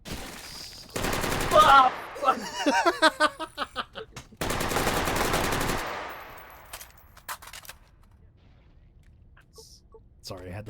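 Rapid automatic gunfire from an LA5 rifle firing 5.56 rounds in a competitive first-person shooter match, sounding as dense bursts and rattling volleys under a shouting commentator.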